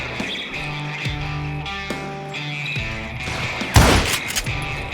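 Gunfire in the game Call of Juarez: Gunslinger, with a sharp burst of shots near the end over a droning musical background and a few scattered quieter reports.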